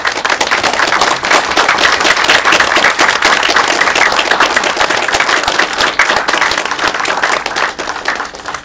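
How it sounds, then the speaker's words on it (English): Audience of business school alumni and attendees at a student portfolio presentation giving a sustained round of applause, dense steady clapping throughout that tapers slightly at the end. "please ask all the CAFE alumni to please stand up for a round of applause"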